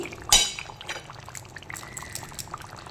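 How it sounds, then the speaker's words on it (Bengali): Ghee poured into a potato curry simmering on the stove: a sharp splash at the start, then soft liquid bubbling and small drips continuing quietly underneath. "আমি দিয়ে দিচ্ছি এর মধ্যে ঘি"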